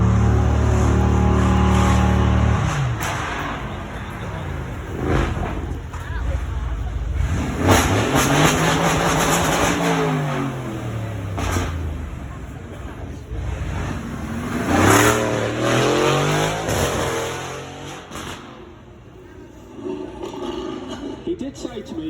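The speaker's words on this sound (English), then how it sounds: "our Aston Martin with our one-off titanium exhaust" An Aston Martin with a one-off titanium exhaust passes on a road at Beaulieu, its engine note rising and swelling loudly as it approaches and goes by, then fading, with voices talking over it.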